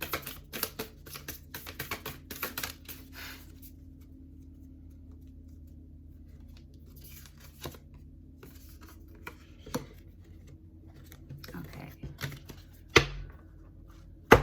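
Crisp riffling and tapping of a thick tarot deck being shuffled in two parts, in bursts with pauses, close up, with a sharp snap near the end.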